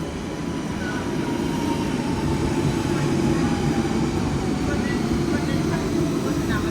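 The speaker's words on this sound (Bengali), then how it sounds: "এই হচ্ছে লন্ডনের মেট্রো" A London Underground train rumbles steadily from start to finish, a dense low roar with faint squeals and murmured talk beneath it, as if heard from on board.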